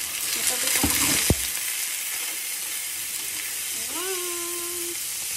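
Broccoli, carrot and chicken liver sauté in a pan with a steady, close sizzle and a few stirring clatters of a utensil, plus a brief sharp knock and a short tonal squeak near the end.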